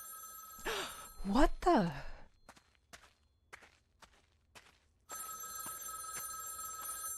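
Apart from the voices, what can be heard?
payphone ringing in a video game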